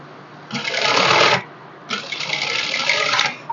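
A sewing machine stitches a princess cut blouse in two close, steady bursts of whirring needle action separated by a brief pause, loud and alone with no talking.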